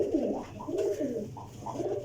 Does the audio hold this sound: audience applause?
no